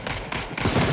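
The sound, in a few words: gunfire in the video game PUBG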